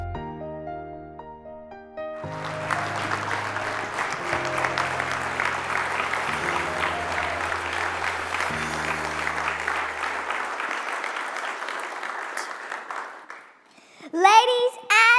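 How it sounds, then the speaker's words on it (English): An audience at the 2025 San Antonio Business Hall of Fame induction ceremony breaks into sustained, dense applause over low background music, then the clapping fades out near the end. "let's give this major round of applause for an out of this world leader, Mrs. Elaine Mendoza."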